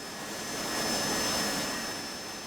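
A steady, moderately quiet roar of an AV-8B Harrier jet engine in DCS World during a gentle landing, swelling slightly in the middle and then easing off as the aircraft touches down.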